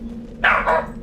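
A dog in the Mass Effect game gives a single short bark, close and clear, standing alone over a low steady background hum.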